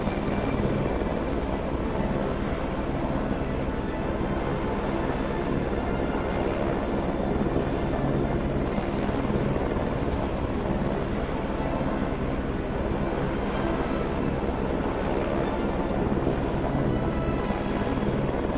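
Continuous loud helicopter rotor drone from the game SCP: The Expedition, steady and unbroken throughout with no voices.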